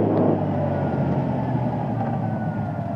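Kawasaki Ninja 1000SX motorcycle, a 2022 model, pulling hard under acceleration at high revs, with a loud, dense, steady engine roar mixed with wind rush throughout.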